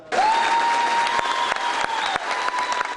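An indoor gathering breaks into sustained, dense applause for local troops of the 339th Military Police Company being sent to Iraq, with the clapping steady and close for the whole stretch.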